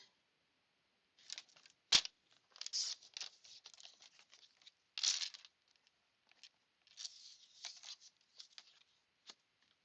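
Paper cut with scissors in a craft room, scattered crisp snips and rustles close by, with brief gaps between cuts and no talk.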